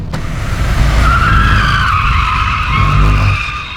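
A car drifting at 60-70 km/h on a driving-school track, tires screeching loudly and continuously close by with engine roar underneath, the squeal rising and sliding in pitch.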